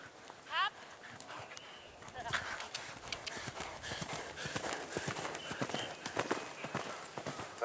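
A horse galloping on a cross-country eventing course at the Young Rider European Championship at Hartpury, with a quick run of hoof beats close by and some crowd sound around it, partly under commentary.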